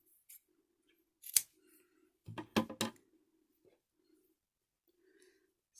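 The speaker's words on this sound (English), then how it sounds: "wrap your elastic around your ears and cut to the appropriate size." Scissors cut elastic for a hand-stitched mask in a few sharp snips close by, with near silence between them.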